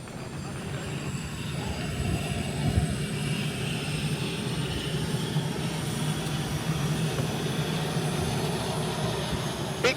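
A propeller aircraft's engine runs at an airfield in Switzerland during a short takeoff performance test, a steady loud drone with rumble, continuous throughout.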